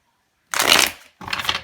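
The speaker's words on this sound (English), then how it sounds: "Let's give this a nice shuffle." Tarot cards are shuffled in two quick bursts of crisp, riffling flutter, close and fairly quiet, separated by a short pause.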